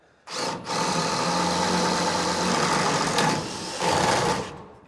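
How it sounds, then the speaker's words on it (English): A power drill bores at an angle through the side of a wooden stud, its motor whining steadily for about four seconds with a brief dip near the start and a slight surge toward the end. "we're going to take a drill bit and we're going to drill this on an angle"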